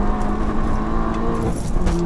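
Stage 2 Seat Leon Cupra hot hatch pulling hard in third gear, a steady engine roar heard from close by inside the car with a faint rattling jingle over it.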